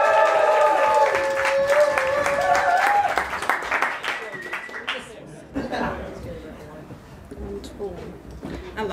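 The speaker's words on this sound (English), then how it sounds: "Big round of applause, please, for Aisha Humphreys." Audience at a poetry slam claps and cheers loudly for about five seconds, with voices calling out over it. The applause then fades into scattered claps and talk.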